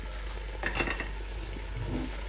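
A spoon stirs vegetables in a pot for a quick couscous, a short soft scrape-and-swish heard up close with a faint sizzle, no voices.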